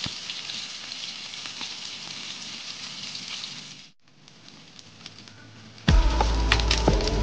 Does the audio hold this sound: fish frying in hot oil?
yes